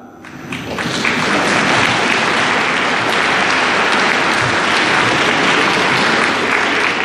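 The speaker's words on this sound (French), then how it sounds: "Je vous avais dit de ne pas applaudir." Congregation applauding in a church during a Christmas Eve vigil service, a loud, dense, sustained wash of clapping from a large crowd that swells within the first second and holds steady throughout.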